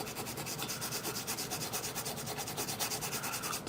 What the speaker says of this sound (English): Almost rubbed it with my clean finger.